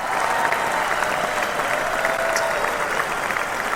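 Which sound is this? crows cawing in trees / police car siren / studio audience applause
studio audience applause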